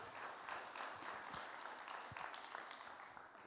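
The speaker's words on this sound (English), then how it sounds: "let's just give another round of applause for those amazing demos" A room full of people at a tech conference claps steadily, a sustained round of applause at moderate distance with no voices on top.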